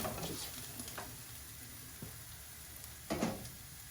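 A risotto base of softened vegetables sizzles in a hot pan, a steady faint frying hiss broken by a few soft stirring scrapes and clicks, with one louder scrape near the end.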